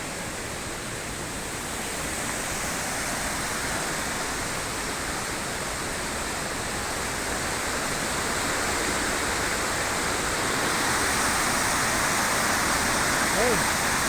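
Puray waterfall in Montalban, Rizal, a dense steady rush of falling water, broadband and continuous at close range, growing slightly louder over time with no other sounds standing out.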